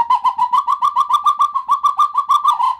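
A person imitates the whistled call of a red-legged seriema, a rapid run of about fifteen sharp, pulsing pipes delivered loud and close with a steady rhythm and no talking.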